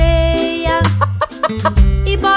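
A hen's clucking, rendered as part of a children's song about a hen laying eggs, comes through as short rhythmic bursts over sung musical accompaniment with steady harmonic backing.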